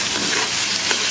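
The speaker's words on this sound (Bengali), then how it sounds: "টমেটো পেঁয়াজ কাঁচামরিচ এগুলো যে ভালো করে কষানো হয়ে গেছে" Tomato, onion and green chili sautéing in a pan, a dense, even sizzle with faint stirring scrapes, loud and close throughout.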